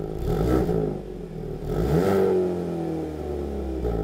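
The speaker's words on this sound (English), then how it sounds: "The N's 4-cylinder is a turbocharged 2-liter with 276 horsepower and 289 pound-feet of torque to play with." A Hyundai Kona N's turbocharged 2-liter four-cylinder, making 276 horsepower, revs with a rising, throaty surge midway, then settles into a steady engine drone, close and fairly loud.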